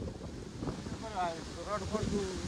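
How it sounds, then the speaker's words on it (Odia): Strong gusting wind buffets the microphone outdoors during rainy weather, a steady close rumble with surges, while someone talks over it. "ଦେଖନ୍ତୁ ପବନ ପୁରା ଜୋରସେ ଦେଲାଣି"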